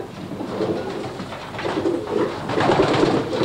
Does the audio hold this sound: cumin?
no